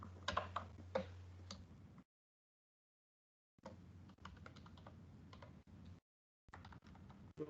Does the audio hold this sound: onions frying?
no